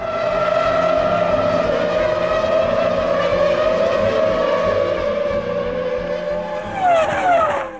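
Formula 1 cars racing at Silverstone, including Michael Schumacher's car, roar past in a sustained high-pitched engine whine that holds steady, then bends sharply in pitch near the end as the cars pass by, with a faint tire squeal.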